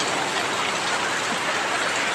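Steady rain falls on the grounds of a temple in Lampang, Thailand, as a dense, even hiss with no voices.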